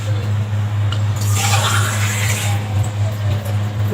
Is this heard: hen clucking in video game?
no